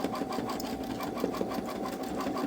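A Babylock Solaris 3 embroidery machine sews satin stitches in a continuous, rapid rhythmic whir with fast regular needle pulses, close and steady throughout with no talking.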